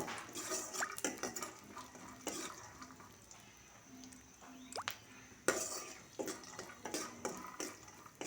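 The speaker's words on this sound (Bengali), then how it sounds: "প্রথমে আমি বাদামগুলো হালকা তেলে ভেজে নিচ্ছি" Peanuts frying in sunflower oil and being stirred, heard as irregular scraping and clattering strokes against the pan over a faint sizzle, close but quiet.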